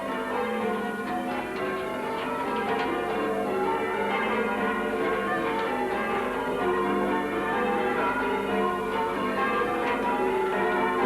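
Church bells at Warnham ring in a continuous peal, each run of notes descending to the low tenor bell, a dense, steady clangour heard close with no voices over it.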